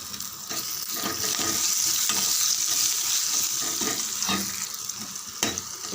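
Curry leaves, chopped ginger and garlic sizzle and crackle steadily in hot oil for milagu pongal, a loud, continuous frying hiss with occasional sharper pops and stirring clatter.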